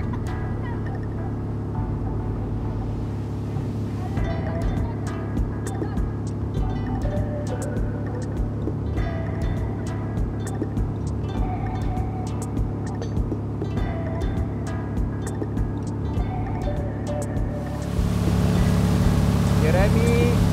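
A motorboat tows a water skier at a water-ski and wakeboard camp. The engine drones steadily and loudly throughout and swells louder toward the end, with people talking faintly in the background.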